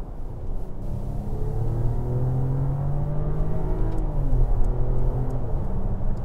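Mercedes S450 W223 sedan accelerating on a motorway, a steady low engine drone rising in pitch as speed builds, heard from inside the cabin with constant road and wind rumble and no talking.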